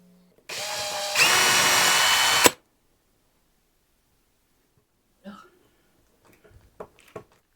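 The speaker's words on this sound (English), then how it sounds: "Now we're gonna drill it" A power drill whirs for about two seconds while building a Fender Stratocaster guitar, rising in speed partway through before stopping abruptly; a few faint knocks and rustles follow.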